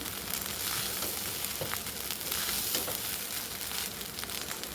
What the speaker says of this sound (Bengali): এবার ভাতটাকে ভেজে নিচ্ছি।